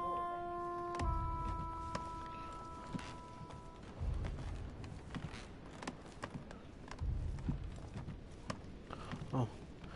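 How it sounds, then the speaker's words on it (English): Footsteps in The Council video game: irregular heavy thumps and scuffing steps, some clustered in bursts, mixed with occasional clicks and creaks over a steady ambient background with a faint tonal hum at the start. "Oh, I hear footsteps."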